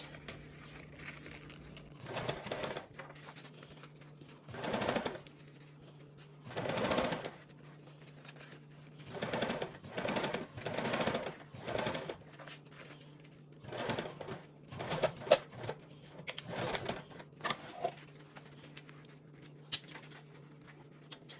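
A sewing machine back tacking over a bag handle to reinforce it, giving short close bursts of stitching separated by pauses and a steady low hum.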